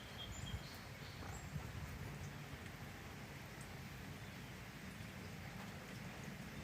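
Steady rain falls outdoors onto a yard with chairs, a dense, even hiss with soft low rumbling beneath, fairly quiet and unbroken, and no voices.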